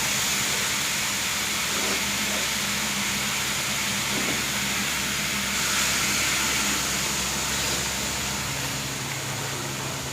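Hot water poured into chicken frying in a pan throws up a loud, steady hiss of sizzling steam that holds constant for the whole stretch, with no talking.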